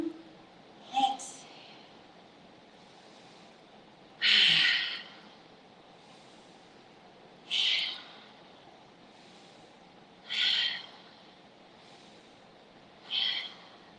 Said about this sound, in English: So, inhale, exhale.